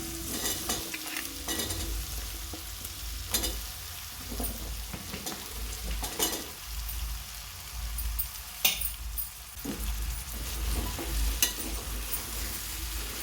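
Potato and drumstick curry with softened tomatoes being stirred in a pan, a spoon scraping in repeated close strokes over a low steady sizzle.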